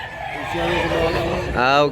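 A fighting rooster offered for sale crows in a short, harmonic burst near the end, following a stretch of voices and background noise.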